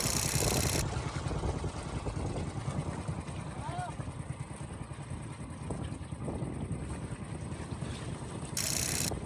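An outrigger boat's engine drones steadily on large waves, with wind buffeting the microphone and water slapping around the hull, fairly loud and continuous.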